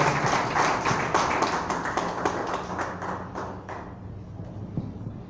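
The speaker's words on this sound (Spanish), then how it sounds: "Den un aplauso al Señor en esta tarde." A church congregation at an afternoon service claps together in a strong rhythmic burst that gradually fades and thins out, leaving scattered claps at the end.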